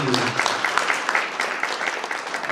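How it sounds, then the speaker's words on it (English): A panel discussion audience at a revenue summit breaks into brief, lively applause, a dense patter of many hands clapping close by, with a faint voice at the start. "it's the ladies who clapped first"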